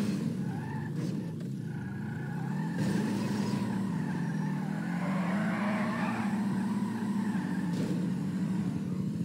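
Race car engine in GTA 5 roaring steadily at high speed on a racing track, a continuous loud drone with slight pitch shifts as it accelerates.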